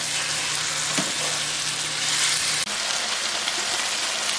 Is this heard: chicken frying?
yes